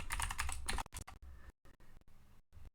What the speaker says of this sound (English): put in our password